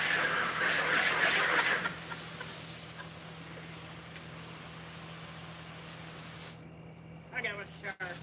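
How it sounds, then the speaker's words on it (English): Water sprays and hisses while ice is washed off shrimp; a strong spray sound starts the clip and fades to a softer, steady rush under a low hum, ending with a few short clattering noises. "Trying to wash this ice off of this shrimp."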